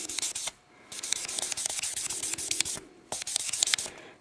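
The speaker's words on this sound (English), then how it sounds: "I rub it down with that pad." A pad rubs back and forth over a surface to dull its shine. Close, scratchy rasping strokes come in quick bursts, broken by two short pauses, with no voices.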